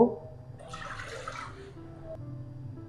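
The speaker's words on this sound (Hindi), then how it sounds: "इसमें डालेंगे 2 कप पानी" Water for tamarind chutney pours into a cooking pot in one short splashing stream of about a second, close by and moderately loud, over a quiet kitchen background.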